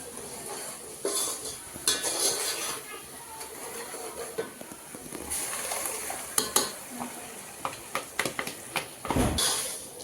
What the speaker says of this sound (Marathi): आता हे टोमॅटो प्युरी पण एकजीव करून घ्यायचे जोपर्यंत तेल सुटत नाही तोपर्यंत त्याला म्हणजे भाजून घ्यायचे